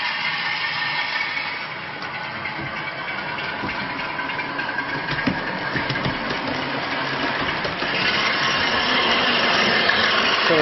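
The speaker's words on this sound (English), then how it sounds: "Just wait for the locomotive to start up." Model railway locomotive sound decoder starting up on an automated DC layout: a continuous rumbling diesel engine drone that swells slightly louder toward the end, steady and close, with no talking.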